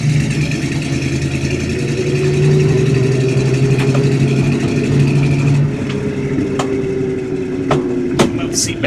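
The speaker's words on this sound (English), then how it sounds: "Today we are in the 1970 Ford Mustang Fastback with the original 351 Cleveland and a 3-speed manual transmission." A 1970 Ford Mustang Fastback with its original 351 Cleveland V8 and three-speed manual, heard from inside as a loud, steady low rumble that swells slightly midway, then eases with a few sharp clicks near the end.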